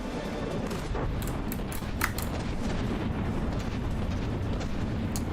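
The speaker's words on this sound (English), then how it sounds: "Mortars are coming down too." Mortar shells land in the naval combat game From the Depths: a dense, steady roar of overlapping explosions and gunfire, with sharp bursts near 1.3 and 2 seconds, heard loud and close with no talk.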